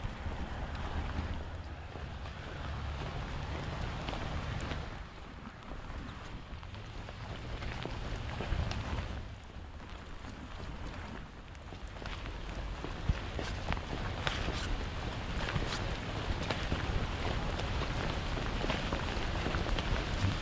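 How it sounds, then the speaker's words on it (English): Steady rain falls during a walk in Maine, a continuous close patter of drops on surfaces mixed with low wind rumble against the microphone, easing slightly at moments but persisting throughout. "So the rain is letting up a tad. Still raining, but it's not downpouring like it was."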